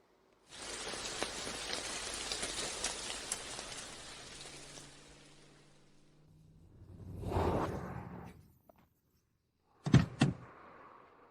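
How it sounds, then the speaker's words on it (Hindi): Rain patters steadily for about five seconds, then fades out, followed by a soft swelling whoosh and a couple of sharp thunks like a car door, with no voices. "बारिश भी रुक गई।"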